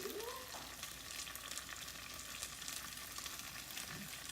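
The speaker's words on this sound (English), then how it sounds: "just fry this up with our carrots and our peas" Fried rice with carrots and peas frying in a pan, a steady soft sizzle and crackle with faint stirring scrapes, quiet and close, no voices.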